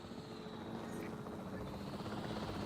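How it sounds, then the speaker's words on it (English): A capture-team helicopter in the Jurassic World Evolution 3 video game drones steadily with a rotor hum, moderately loud and unbroken for the whole short stretch, alone with no talking. "The priority needs to be tranquilizing it with the capture team chopper."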